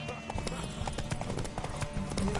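Horse hooves clip-clop in a quick, steady rhythm close by in The Witcher video game, with voices talking over the galloping.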